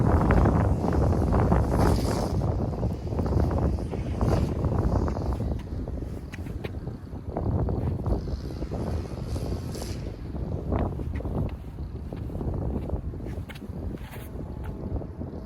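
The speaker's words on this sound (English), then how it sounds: "the wind is kind of ripping right across now" Strong wind gusts roar across an open disc golf course at Hoyt Grove in Stillwater, Oklahoma, a loud continuous buffeting rush with microphone wind noise throughout, no talk.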